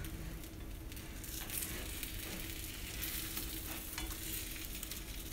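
Quesadilla frying in a very hot cast iron pan, a steady close sizzle and crackle that runs unbroken without voices.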